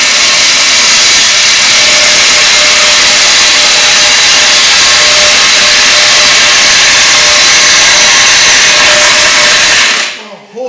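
A loud, steady power saw grinds through a metal dump pipe for about ten seconds without a break, then cuts off abruptly at the end.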